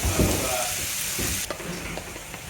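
Egg noodles bubble in a pot on a kitchen stove with a soft, steady hiss and sputter, briefly louder at the start, with faint kitchen clatter in the background.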